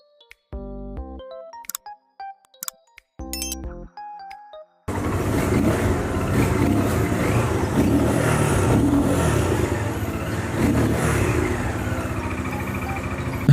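A QJ TX200 motorcycle made by Benelli runs with a continuous rough engine and road roar after a short musical chime, and the sound stays fairly loud and steady without talking.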